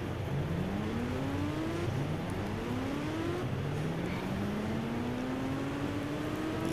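A motorbike engine in the Indian Bike game 3D drones steadily and rises in pitch with each rev, repeated climbing sweeps over a constant synthetic hum, with no voices.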